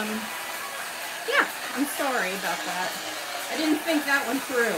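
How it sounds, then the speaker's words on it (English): Hair dryer running at a live fluid art painting session, a steady airy whoosh that continues under a person talking apologetically. "Sorry about the noise, but it is a hairdryer"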